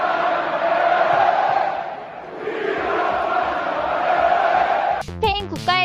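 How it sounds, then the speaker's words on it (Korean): A huge stadium crowd in Barcelona roars continuously in support of the Spain national football team at a match against Albania, a dense sustained wall of cheering that dips briefly, then sharp whistles and shouts break out near the end. "스페인 국가의 기가 먹을 만큼 큰 환호를 한 바르셀로나"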